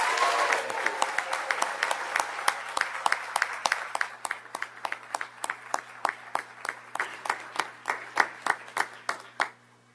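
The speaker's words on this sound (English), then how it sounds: "Could we please give one more loud, warm welcome and applause for our 2013 classified champions?" Applause at a school board meeting, starting as a quick scattered round from a small group and thinning into slower, sparse individual claps that fade out, with a low steady hum underneath.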